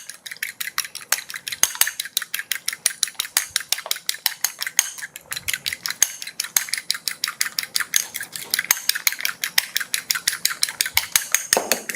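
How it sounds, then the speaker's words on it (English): An egg white is beaten briskly in a bowl with a whisk or fork, producing rapid, regular clicking and tapping strokes against the bowl, close and fairly loud, continuing without a break and with no voices. "So now I'm going to beat my egg white a bit"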